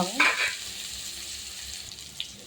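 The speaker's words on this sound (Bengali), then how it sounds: "মাছ ভাজা তেলের ভিতরে আমি আগে দিয়ে দেবো আলু।" Potatoes and cauliflower sizzle in hot oil left over from frying fish, with a loud stirring burst at the start before the frying settles into a steady hiss.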